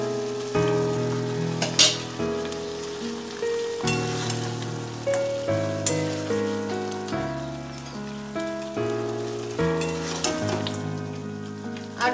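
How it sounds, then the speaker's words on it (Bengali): Pre-fried chicken going into a hot pan gives a steady crackling sizzle that runs under melodic background music throughout. "এবার এর মধ্যে আমি সেই ভেজে রাখা চিকেনটা আমি দিয়ে দিচ্ছি।"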